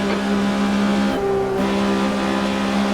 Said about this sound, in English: Need to be really careful I'm not over revving the engine